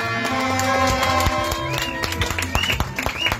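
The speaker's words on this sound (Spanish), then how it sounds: "Un aplauso más grande." An audience claps for an honoured older man, don Liberto, at an artists' protest gathering. Scattered, uneven claps rise over a background of sustained tones and murmuring.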